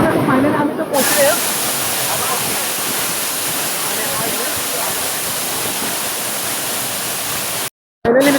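A waterfall roars as a loud, steady broadband rush of falling water, close and continuous, with brief cuts near the start and end; voices are faintly audible beneath it.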